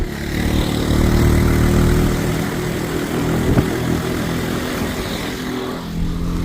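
A freshly assembled Bashan 300 4x4 cargo quad bike, without its cargo bed, drives in second gear on rear-wheel drive; its engine runs loud and steady close by, a continuous throaty drone with no talk over it.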